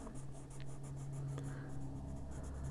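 Colored pencils scratch across the paper of an adult coloring book in a steady run of close, soft, dry strokes, heard alone.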